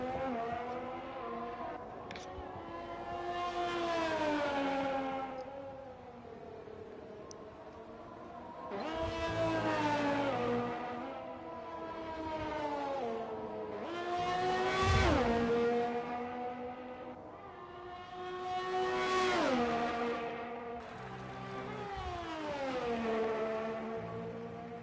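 Formula 3 race cars at the Austrian round lap the track, their high-pitched engines rising and falling as cars pass close by in repeated waves, with no talk.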